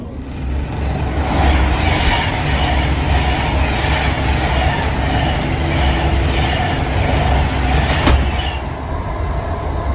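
Steady rumbling train running noise from inside a Class 319 carriage in London, broadband and continuous, with faint rhythmic clatter and a brief squeak near the end.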